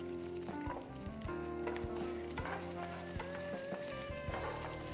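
Small onions (shallots) sautéing in a pan, giving a steady, dense sizzle with occasional stirring clatters and some faint tonal sounds in the background, heard close up without speech.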